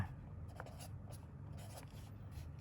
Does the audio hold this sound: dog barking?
no